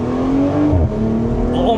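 A BMW engine revs up through an upshift, a strong rising tone that drops briefly at the gear change and then climbs again, heard close and loud with a voice faintly underneath.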